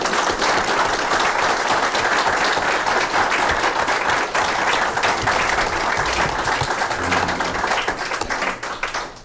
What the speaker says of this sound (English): another round of applause for these candidates